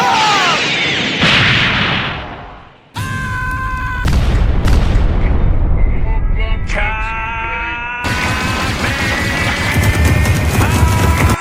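A Spirit Bomb energy attack explodes in an anime fight, heard as a continuous roaring blast with sharp booming impacts and a rumbling, crackling wash that drops out briefly and then surges back at full loudness, with no talking.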